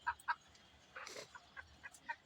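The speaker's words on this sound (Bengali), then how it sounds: "এই হলো আমার মুরগিগুলা" Several chickens cluck softly in short, scattered bursts at a moderate distance, quiet and intermittent, with no talking.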